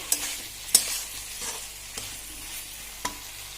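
Pork frying in oil for a banana flower dish, giving a soft steady sizzle broken by a few sharp crackles and stirring knocks, close and moderately quiet with no talking.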